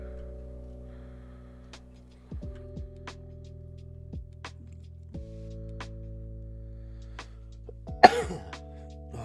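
Several short, sharp coughs spaced a second or so apart over a steady low hum, ending with a harsher burst near the end.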